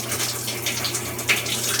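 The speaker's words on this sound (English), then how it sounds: "you can see the water is beginning to run" Water running and filling inside a Maytag Bravos top-load washing machine, a steady close hiss of flowing water with a low machine hum underneath, no talking.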